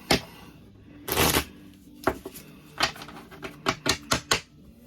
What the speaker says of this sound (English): Now I'm going to shuffle the deck